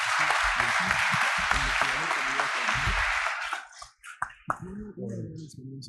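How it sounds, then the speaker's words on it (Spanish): An audience at a cybersecurity conference talk claps in a dense, sustained wash of applause for about three and a half seconds, then the clapping breaks off and a voice speaks. "vamos a recibirlo con un fuerte aplauso enérgico"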